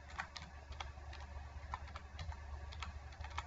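Typing on a computer keyboard while entering text into an MS Word table: a steady run of quick, light key clicks at close range, with a low hum behind them and no talking.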